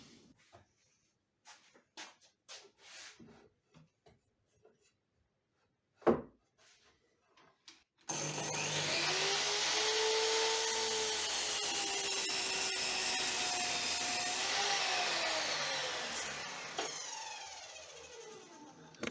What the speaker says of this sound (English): here you can see my miter saw station with my stop block. And let's get cutting.